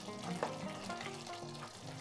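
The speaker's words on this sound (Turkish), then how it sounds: "Göz göz kaynıyor görmüş olduğunuz gibi." Milk semolina halva bubbling in a pan on the stove, a faint, steady soft simmer with scattered small pops and plops, heard close and alone.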